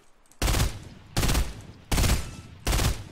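Burst rifle fire in the Fortnite battle royale game: four loud, evenly spaced bursts about three-quarters of a second apart, each a tight cluster of rapid shots, with no talk in between.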